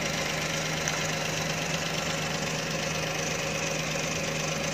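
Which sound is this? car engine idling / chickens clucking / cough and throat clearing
car engine idling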